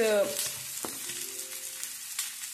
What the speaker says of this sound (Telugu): సిమ్లో ఉంచుకొని 2 sides మంచిగా ఫ్రై చేసుకుంటూ రావాలి